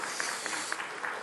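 A short burst of audience applause at an opening ceremony of a Korean gender equality forum, steady clapping from a crowd in a hall, loud and continuous.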